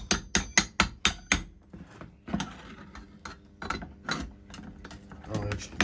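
Hammer blows on a metal vise in a garage, a rapid run of five or six sharp ringing strikes, then scattered clanks and rattles of metal, close and loud.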